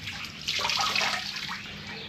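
A small amount of water being poured and splashed while rinsing a boat part on a 1973-74 Glastron hull: a short hissing, splashing gush, close and moderately quiet, with no talk.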